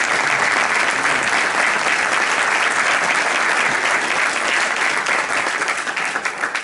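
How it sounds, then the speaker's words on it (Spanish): Sustained, dense applause from an audience at a Madrid book presentation and award ceremony, steady and loud for several seconds before tapering slightly at the end. "Un aplauso para..."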